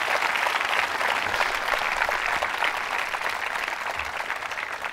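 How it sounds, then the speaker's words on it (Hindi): A college audience at a quiz show in Ajmer gives loud, sustained applause for a contestant, thick continuous clapping from start to finish with no talking. "तालियां जोरों से बजाइए शर्मा साहब के लिए।"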